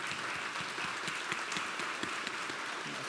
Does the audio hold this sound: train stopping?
no